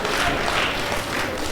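Applause from supervisors at a plenary session of an annual higher-education conference, a dense steady wash of many hands clapping with no break through the whole span.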